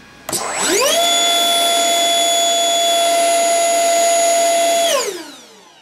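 A high-pitched electric ducted fan whines up sharply, holds a steady loud scream with strong tonal harmonics for about four seconds, then spools down.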